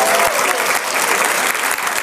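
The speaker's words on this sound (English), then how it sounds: "By round of applause" Steady, dense applause from a comedy club audience fills the whole stretch, loud and close, with no talk over it.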